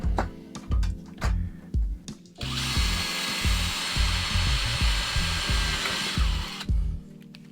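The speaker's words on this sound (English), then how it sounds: "I'll just put some timber underneath to support it while we drill through it." A few sharp knocks, then a power drill whirs loudly and steadily for about four seconds before stopping as it drills through a metal bar supported on timber.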